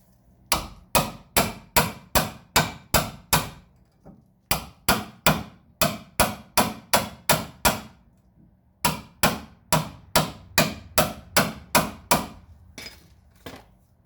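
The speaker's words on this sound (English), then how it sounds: "But you're hitting it with the hammer." A hammer strikes a socket wrench on the axle nut of a 2011 Kia Optima in sharp, ringing metallic blows. They come in fast runs of about seven to nine hits, separated by short pauses, close and loud with no talk.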